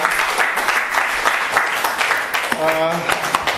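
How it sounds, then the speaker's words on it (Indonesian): An audience at a political and legal studies school session claps for the speaker Pak Munawar, a dense, steady round of applause throughout, with a voice talking briefly near the end. "Oke, aplaus buat Pak Munawar."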